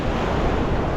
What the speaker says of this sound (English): the wind's coming with it, and some quite big waves as well